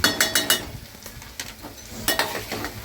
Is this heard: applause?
no